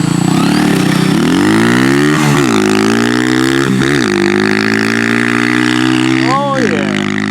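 A dirt bike engine revs loud and close during a backyard race on grass, its pitch climbing and falling in repeated throttle bursts. The droning engine runs steadily throughout the clip.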